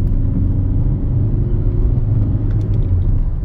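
A 2005 Skoda Octavia 1.9 TDI is driven hard, its diesel engine giving a steady, loud low rumble with road noise from inside the cabin and no talk over it.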